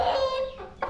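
A chicken in a Konkan village clucks close by, a short run of harmonic, throaty calls with a brief sharper cluck near the end.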